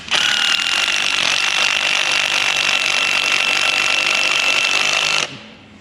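A Black & Decker power drill fitted with a coupler and small screwdriver bit runs steadily at full speed with a bright whine for about five seconds, then cuts off abruptly, close to the listener and loud.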